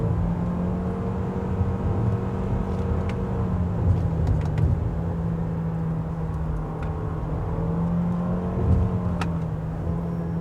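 A Toyota RAV4 Hybrid cruises through curves with a steady engine drone and road rumble heard from inside the cabin, marked by occasional light clicks and faint shifts in pitch.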